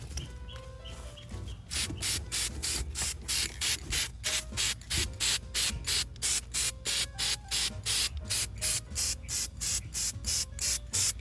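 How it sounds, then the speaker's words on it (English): A steady run of short, rhythmic spray bursts from a spray can hisses close by over fruit trees, pulsing evenly after a brief rattle at the start. "I'm gonna spray again"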